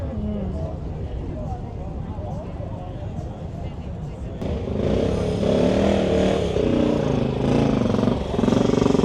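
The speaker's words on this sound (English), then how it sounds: "Kawasaki triple here" A Kawasaki 750 triple motorcycle at a classic bike night idles and then revs up louder partway through, a raspy multi-cylinder drone with people talking nearby throughout.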